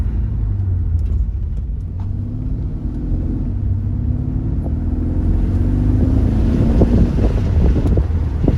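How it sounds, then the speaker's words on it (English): A 2015 Mercedes E63 S AMG wagon's exhaust rumbles low and steady beneath strong wind buffeting, with a rising drone as the engine revs near the end. "hopefully you could hear a little bit of the exhaust"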